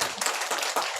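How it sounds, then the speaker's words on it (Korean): A church congregation claps during a Sunday service, a brief burst of warm, dense clapping heard up close. "우리 뜨겁게 박수하겠습니다."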